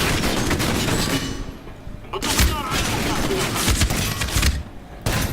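Gunfire in the video game Medal of Honor Warfighter, dense rapid bursts of shots crackling almost continuously with brief lulls, while someone talks over the action.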